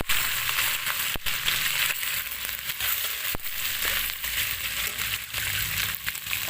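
Garlic ginger paste frying in oil for samosa masala, a steady dense sizzle with scattered crackles and soft spoon clicks, close and continuous.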